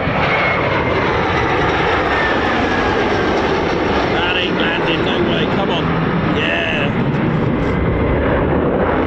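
An F-15 or F-35 fighter jet roars overhead at RAF Lakenheath, a loud, broad, continuous engine blast from a fixed-wing aircraft filling the whole stretch, with faint voices underneath.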